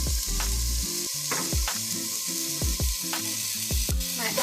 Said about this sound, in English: In a large pot over medium-high heat, I'm going to add in my olive oil, and I'm going to let that come to temperature. Now I'm going to add in my carrots,